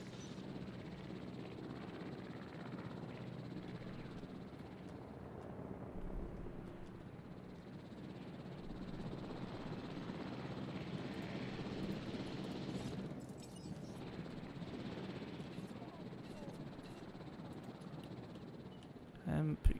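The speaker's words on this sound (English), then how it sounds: "Helicopter just comes out of nowhere, you know?" A helicopter arrives in the Jurassic World Evolution dinosaur park game, a steady whirring rotor drone that holds throughout at moderate loudness, with a person speaking over it.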